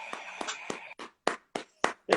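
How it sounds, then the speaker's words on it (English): A person clapping for themselves, eight sharp, close handclaps at a steady, slightly slowing rhythm, with nothing else in between. "I'm clapping for myself."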